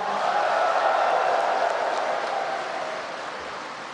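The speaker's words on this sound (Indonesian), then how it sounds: "Tepuk tangan untuk DPC-DPC se-Indonesia." A large crowd claps at the closing of the 2024 PKB party congress in Indonesia, a broad, roaring wash of applause that swells, then slowly tapers off.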